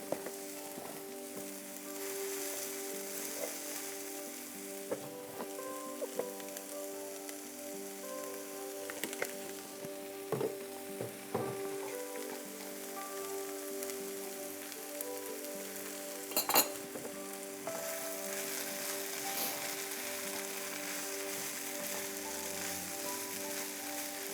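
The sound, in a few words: breakfast scramble frying in oil in a pan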